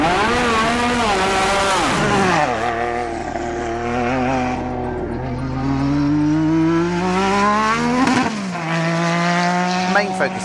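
A restored Williams FW11 Formula 1 car with a Honda turbo engine runs during a shakedown test, its engine revving and changing pitch in loud sweeping rises and falls, with a voice briefly audible over it.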